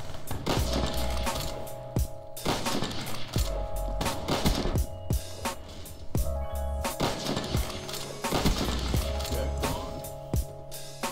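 Ballista sniper rifle shots in Call of Duty Black Ops 3 ring out loud and punchy at spaced intervals, each followed by bolt-cycling clatter over a running music bed.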